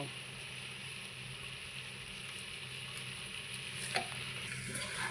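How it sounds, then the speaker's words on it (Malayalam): Chicken curry stirred with salt in a pan gives a steady, quiet frying sizzle with soft scraping and one brief clack near the end, with no talking. "നമ്മൾ ഈ ചിക്കൻ ഇളക്കുന്നതിൻ്റെ കൂട്ടത്തിൽ കുറച്ച് ഉപ്പും കൂടി ഇട്ട് കൊടുക്കണം കേട്ടോ."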